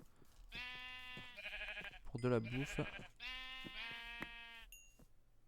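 Several sheep in a video game bleat in quick succession, wavering nasal cries close by, while a person speaks quietly under them.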